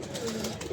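A tethered female pigeon gives a short, soft coo, near and low-pitched, with no other sounds around it.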